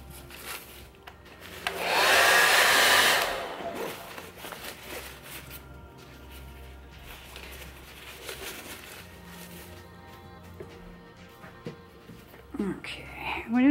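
Hair dryer blowing hot air onto a vinyl doll part to soften and reshape it, a loud steady whoosh swelling for about two seconds near the start, then a quieter hum under low background noise.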